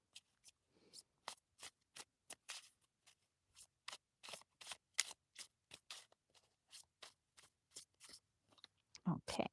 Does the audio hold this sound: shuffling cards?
yes